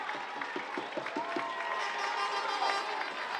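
At a summer collegiate baseball championship game, a distant crowd claps and cheers after a hit, with a few sharp claps up front and steady applause and murmuring building behind.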